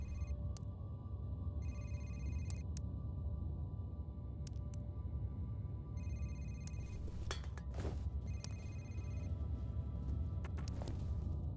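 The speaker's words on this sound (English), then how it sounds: "Don't know where this ringing phone is." A telephone rings in the horror shooter F.E.A.R., repeated bursts of high electronic trilling from somewhere in the level over a low droning rumble, with no talking.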